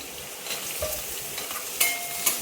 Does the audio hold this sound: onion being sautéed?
yes